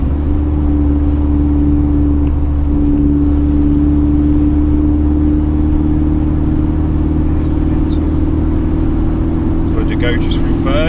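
A Vauxhall Astra VXR in sport mode accelerates hard during a remap session, its engine note droning loud and steady throughout under occasional talk from occupants.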